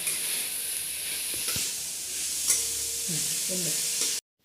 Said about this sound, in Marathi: हे वडी होईपर्यंत असं हलवत राहायचं